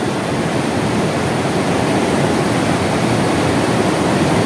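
Rushing water at Maranum Falls in Natividad, Pangasinan, pouring as a loud, dense, unbroken roar close by, with no voices over it.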